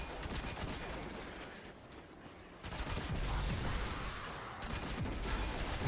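Sustained full-auto fire from the Thunderlord exotic LMG in Destiny 2, a dense continuous burst rattling on for several seconds with a brief dip midway before resuming loud.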